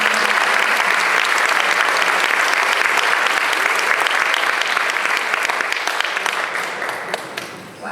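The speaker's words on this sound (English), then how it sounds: "let's give a huge round of applause" A large audience at the Douglas Bell Governor's Summit 2022 claps in a sustained, dense round of applause that holds steady for several seconds, then tapers off near the end.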